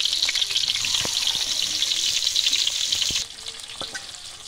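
Tilapia fish frying in oil over a clay stove, a loud, close, steady hissing sizzle that drops suddenly in level partway through and then carries on more quietly, with small clinks and stirring sounds and no talk.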